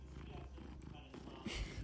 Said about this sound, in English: Can you hear my cat right now?